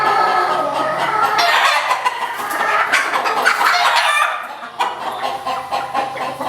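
Chickens close by cluck loudly and busily in uneven bursts, with excited cackling rising and falling. A short lull comes near the end before the clucking picks up again, and no one talks.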